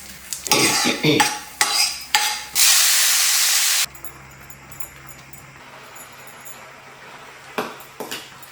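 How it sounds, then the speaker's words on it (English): Mustard seeds, cashews, chana and urad dal and palak fry in oil and ghee in a pan, with spoon clinks and scrapes, a loud burst of hissing sizzle, then a quieter steady fry with occasional taps. No voices. "I have a tablespoon of oil, a tablespoon of ghee, mustard seeds, cashew nuts, chana dal, urad dal, palak leaves."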